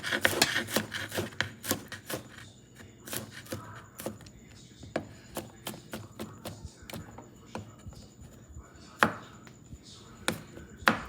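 A knife chops food on a board for coconut curry chicken, giving a quick run of sharp knocks that slows into irregular cuts, close and clear, without talk.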